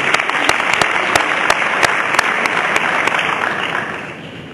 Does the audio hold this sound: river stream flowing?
no